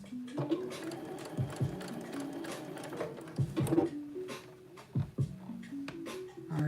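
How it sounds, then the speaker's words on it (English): Sewing machine stitching up a pattern: close, steady mechanical rattling in bursts, starting and stopping several times with pitch shifts as the speed changes. "Right now, my job is sewing this pattern up."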